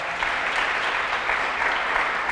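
Church congregation applauding during a sermon, a steady, dense wash of many hands clapping at moderate distance, even and sustained for a couple of seconds with no break.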